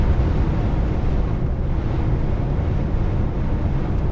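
Strong storm wind roars around a truck running empty on England's highest motorway, a dense, loud, unbroken rush of buffeting noise with no talk over it.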